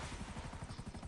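A helicopter approaches in GTA 5, its low rotor chop a steady rapid thumping under a broad whooshing engine wash, fairly faint and continuous.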